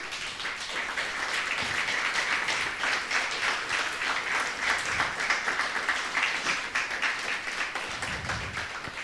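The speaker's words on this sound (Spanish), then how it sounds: "Denle un aplauso al Señor." Church congregation applauding in a sustained, dense wash of clapping that holds steady for the whole stretch, fairly close and lively, with no talking over it.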